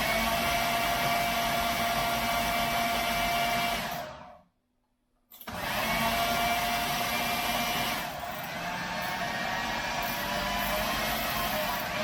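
A countertop blender whirs loudly and steadily, blitzing wild garlic sauce with cider vinegar, cuts out briefly for about a second, then resumes its high steady drone.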